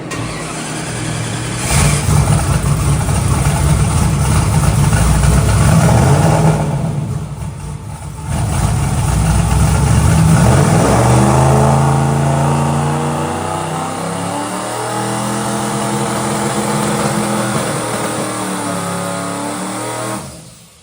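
A twin-turbo NASCAR truck engine on a dyno runs loud and continuous, holding a heavy roar, then dropping briefly before climbing through rising revs that sweep upward and waver, close and dominant throughout.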